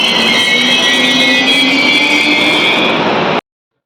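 A Vande Bharat train runs on the line out of Dadar station, making a loud, steady rumble and rattle with a high metallic whine over it before the sound cuts off abruptly.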